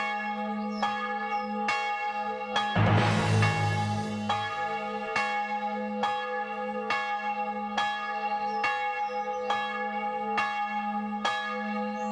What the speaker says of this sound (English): sounds like we have some church bells on the offbeat